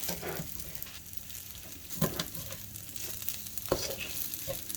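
Chicken fried rice with salt and white pepper is stirred in a hot pan at home, a soft steady sizzle broken by a few scraping taps of the utensil, quiet and close.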